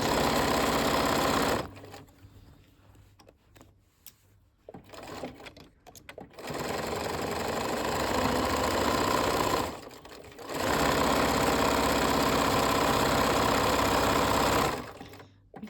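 A sewing machine stitches three layers together with quilt batting between them, running in loud continuous bursts of rapid whirring and broken by short pauses with quieter handling sounds.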